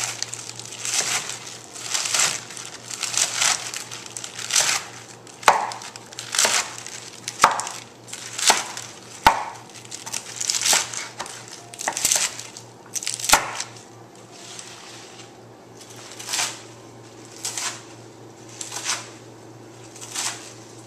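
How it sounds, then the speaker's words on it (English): Vegetables being chopped with a knife on a cutting board for a zesty quinoa salad, a near series of crisp, uneven cuts and crunches in bursts, slowing into spaced single chops toward the end, with no talking. "I'm going to start chopping my veggies, because the veggies are just going to add the perfect flavor to that in the end."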